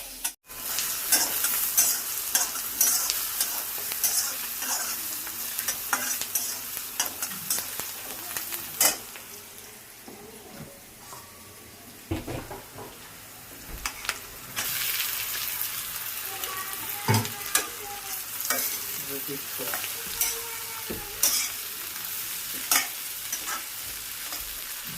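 Peas frying in oil and being stirred, a steady sizzle with frequent scraping and clinking of the spoon against the pan, close and busy, with a few louder knocks and no talk.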